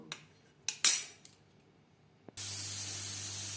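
A pressure cooker cooking dal with turmeric lets out a loud, continuous hissing whistle of escaping steam, preceded by a few faint clicks and clatters nearby.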